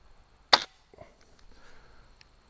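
A Crosman 1377 air pistol fires once at a target 15 yards away, giving a sharp, close snap followed by a faint thud of impact, then quiet outdoor ambience.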